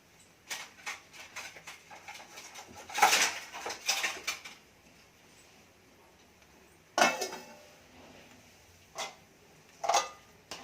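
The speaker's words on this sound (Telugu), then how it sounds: "ఇప్పుడు మూత పెట్టుకుందాము." Metal pot lid set onto a cooking pot on the stove, a few sharp metallic clinks and clatters spaced out over the scene, close and moderately loud with quiet gaps between.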